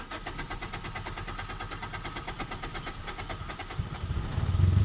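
A Toyota Celica with an intermittent no-start fault and an oil leak cranks with a rapid, even chugging of the starter, then the engine rumbles louder toward the end, close by with no voices.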